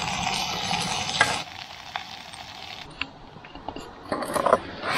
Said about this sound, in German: Jetzt wird Fressen gekocht.